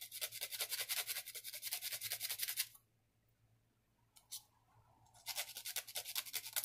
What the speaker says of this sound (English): So I'm just going to sand a little on the top, I'll sand a little on the bottom here.